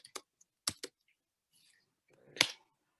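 Keys clack on a computer keyboard in a few sparse, sharp clicks, including a quick double tap, then a short muffled flurry of typing ends in one louder click; quiet gaps between, no talking.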